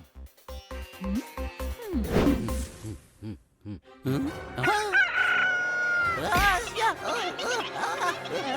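A cartoon bird gives a loud, rooster-like crowing call with rising and falling harmonic tones, preceded by rhythmic music beats and mixed with animated character voices.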